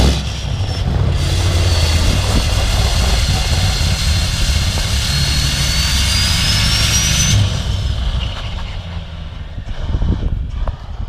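A Polaris off-road vehicle's engine revs loud and steady inside a garage, a continuous roaring drone with a rising whine, easing off toward the end.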